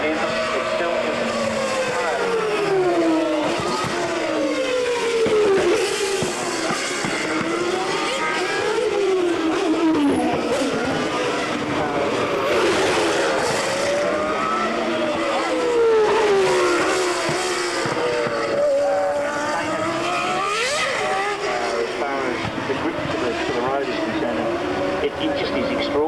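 1997 Formula 1 cars with V10 engines race at the Australian Grand Prix, high-pitched engines rising and falling as they pass, layered over a constant crowd and circuit roar with commentary running underneath.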